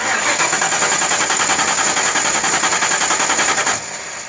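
Starter cranking a Ford Mustang 5.0L engine, a loud, steady, rapid rhythmic churning that runs close and unbroken for nearly four seconds before easing off, with no talk.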